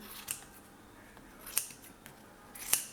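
Scissors trim fur trim for a scrapbook album, giving three sharp, close snips spaced about a second apart against a quiet background.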